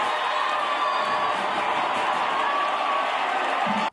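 A large crowd of fans at a game roars steadily, mixing loud singing, shouting and screaming into a continuous wash of noise that holds throughout.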